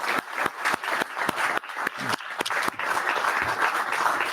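Applause breaks out from the audience at a book presentation, sharp individual claps at first that swell into a fuller, continuous round of clapping.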